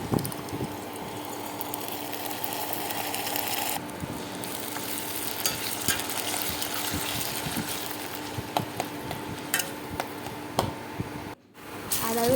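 Garlic and ginger paste sizzles in a pan with onion and tomato for chicken curry, a steady close frying hiss broken by scraping stirs and a brief dropout near the end, with no talk.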